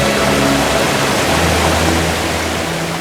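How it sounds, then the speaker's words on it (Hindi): A waterfall near Rishikesh gives off a loud, steady rush of falling water, a dense unbroken roar that fills the whole clip with no voices. "तो झरना देख रहे हैं ना?"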